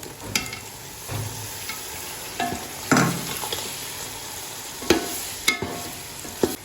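Tomatoes sizzling and frying with chillies in a pan for chicken kaddu curry, with a steady hiss broken by several sharp spoon scrapes and stirs against the pan, close and fairly loud with no talking.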